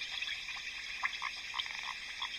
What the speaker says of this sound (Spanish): Esta es la rana arbórea nido de espuma.